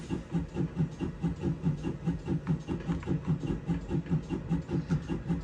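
A steam locomotive in Train Simulator Classic stands with its cylinder cocks open, giving a continuous hiss over a low rhythmic chuffing pulse that repeats steadily and stays close and even throughout.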